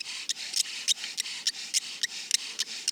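A wooden grass tree spindle drills into a board for friction fire, making a rhythmic, raspy rubbing. The strokes come in quick, regular back-and-forth pulses, close and fairly loud, with no talking.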